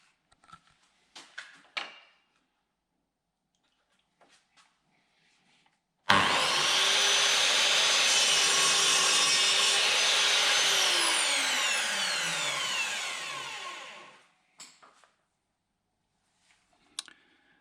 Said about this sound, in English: we can just cut it into the size we want